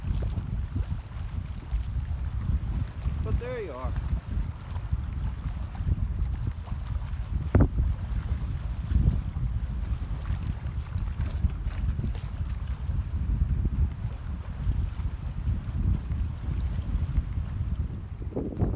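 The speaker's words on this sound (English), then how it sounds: "I can hear the stones washing on the back of the wall." Water laps against a wall and washes loose stones at its back, a steady rushing wash under heavy wind buffeting on the microphone, with a brief voice near the end.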